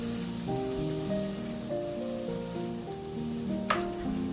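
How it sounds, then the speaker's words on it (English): Milk is stirred into gravy in a hot pan for a Southern pork chop dinner, a continuous soft sizzle under faint tonal background sounds, with one quick scrape near the end. "And I want to keep stirring so we don't get lumps in our gravy."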